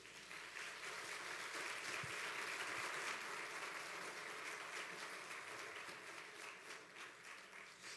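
A church congregation applauds together, dense and steady clapping filling the room for about eight seconds without a break, fairly distant and even in loudness, with no voices standing out.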